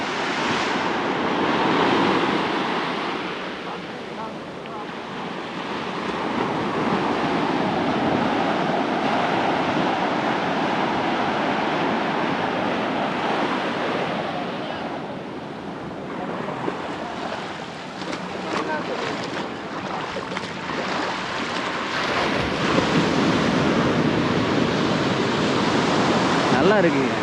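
Sea waves break on a warm-water beach near Trivandrum, making a continuous loud wash of surf with swelling and receding roars, wind buffeting the microphone, and a fresh surge near the end.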